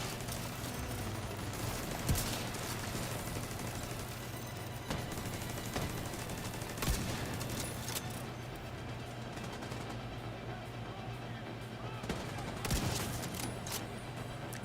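Bursts of gunfire in The Division 2, with sharp shots and rattling volleys scattered through a dense, continuous combat din at moderate volume.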